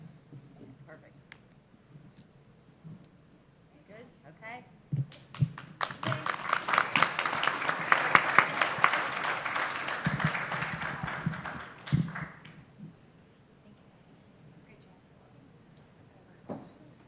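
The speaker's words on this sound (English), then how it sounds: "I'd love to give another round of applause to all of our wonderful students today" An audience at a student pitch competition breaks into a burst of clapping that swells for about six seconds and then thins out. A speaker talks before and after the applause.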